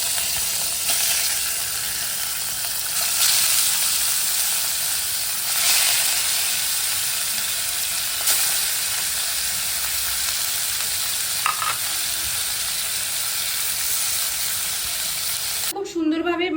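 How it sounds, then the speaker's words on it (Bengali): Bhetki fish pieces coated in salt and turmeric fry in hot oil, giving a loud, continuous sizzle close by, with occasional brief crackles and stirring clatter before it cuts off at the end. "গরম হয়ে গিয়েছে, এখন একটা একটা করে ভেটকি মাছগুলো দিয়ে দেবো।"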